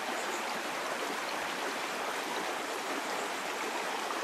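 Junction Creek, running high after rain, rushes in a continuous broadband wash of flowing water, steady and close with no voices.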